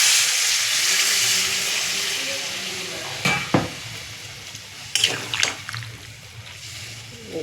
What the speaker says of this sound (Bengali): কষানো হয়ে গেছে, এবার জল দিয়ে দিচ্ছি